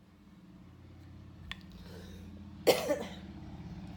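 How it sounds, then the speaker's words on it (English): A single sharp cough rings out close by, followed by a smaller one, over a steady low hum. "Sorry, excuse all the coughing."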